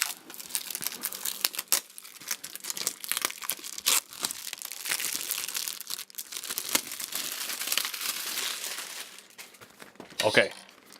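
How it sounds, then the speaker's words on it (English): Plastic wrap crinkling and tearing as it is stripped from an EVGA GTX Titan graphics card box, a continuous close run of crackling and rustling with sharper rips and a louder crunch near the end. "Okay, so there goes the plastic."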